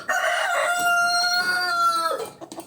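A backyard rooster crows one loud, close, drawn-out cock-a-doodle-doo that trails off at the end, with no talk over it.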